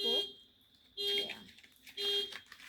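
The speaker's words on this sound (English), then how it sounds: "sorry about the beeping" Three short electronic beeps repeat about once a second, fairly loud and close, with a faint voice murmuring underneath.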